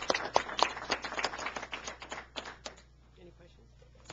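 Audience applause at a press conference in Springfield, Illinois, many hands clapping in a dense burst that tapers off into near silence, moderately distant in a room.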